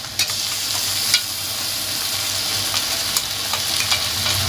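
Ginger, garlic and green chilli paste sizzles in a hot pan, a dense steady frying hiss with a few sharp spatula clicks and scrapes.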